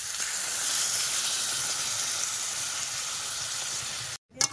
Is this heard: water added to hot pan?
yes